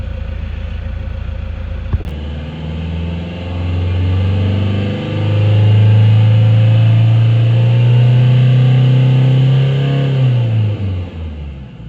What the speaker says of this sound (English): Revving out pretty well.